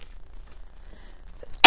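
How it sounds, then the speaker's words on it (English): One sudden, loud sneeze bursts out close by after near silence, cut off right at its peak. "Excuse me, I just felt that sneeze come on."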